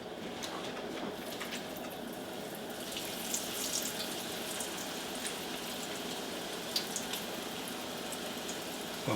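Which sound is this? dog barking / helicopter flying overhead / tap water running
tap water running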